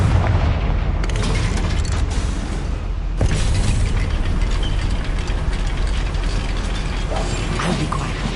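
Confringo fire spell explosion inside a goblin mine in Hogwarts Legacy, a loud booming blast with two sharp bursts followed by rumbling debris and clanking mechanical rattle, with no voices.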